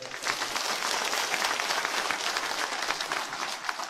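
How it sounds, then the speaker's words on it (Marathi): A crowd of villagers and guests at a Marathi public event claps loudly and continuously, an even wash of applause that holds strong from start to finish without any talking. "या टाळ्या गावकऱ्यांसाठी आहेत."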